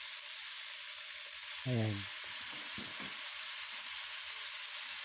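Boiled chicken feet for adobo poured from a pot into a hot pan, giving a brief loud splash and sizzle over steady hissing frying noise, with a short spoken word at the start.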